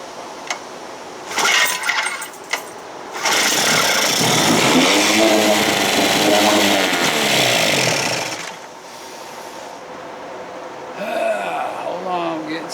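A 1956 Evinrude 7.5 hp outboard motor being choked and started: it catches and runs loud and close for several seconds with a rough, raspy drone, then dies away, with a brief sputter near the end.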